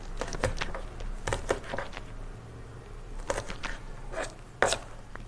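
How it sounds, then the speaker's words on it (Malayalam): A knife chops green beans against a board in irregular bursts of sharp taps, some in quick clusters, fairly faint with quiet gaps between. "അപ്പോൾ നമുക്ക് ഈസി ആയിട്ട് പയർ അരിഞ്ഞെടുക്കാൻ പറ്റും"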